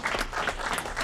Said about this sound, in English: Another round of applause for our community.